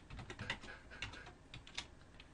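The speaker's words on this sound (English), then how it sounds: "And then you just start typing" Quick, uneven clicks and taps from a computer keyboard on a home computer, close but faint, with no speech.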